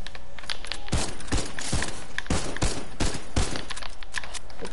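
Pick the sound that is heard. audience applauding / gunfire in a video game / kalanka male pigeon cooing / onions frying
gunfire in a video game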